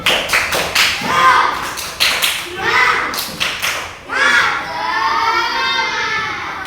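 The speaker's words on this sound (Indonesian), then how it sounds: "Tepuk semangat." A primary school class performs a rhythmic spirit clap, loud group claps and taps in quick patterned bursts mixed with children's shouted chanting, ending in a drawn-out cheer.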